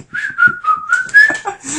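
A person whistles a bright melody, with a clear wavering pitch and short phrases, loud and close, with no talk over it.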